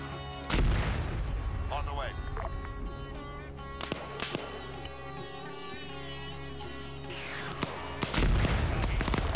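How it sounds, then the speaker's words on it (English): Gunfire in a Shapur match of a shooter video game, with sharp shots and heavy booming bursts near the start and end over a steady game soundscape, while a voice talks over it. "They're shooting at the unarmed ones."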